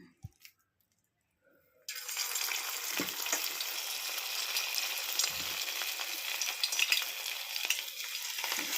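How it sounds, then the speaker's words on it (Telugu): Ivy gourd and sweet corn pakodas drop into hot oil and fry, a brief quiet start giving way to a steady, close, bubbling sizzle that continues with small crackles throughout. "ఆయిల్ హీట్ ఎక్కింది పకోడీ వేసుకున్నాం"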